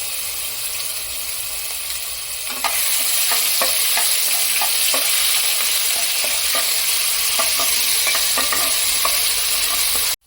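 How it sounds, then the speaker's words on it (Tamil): Steady oil sizzle from a pan, jumping louder as ginger garlic paste and fennel seeds hit the hot oil, with scattered spatters and stirring scrapes throughout. "இப்போ 1/2 ஸ்பூன் சோம்பு, 1 ஸ்பூன் இஞ்சி பூண்டு விழுது போட்டு நல்லா வதக்கிக்கலாம்."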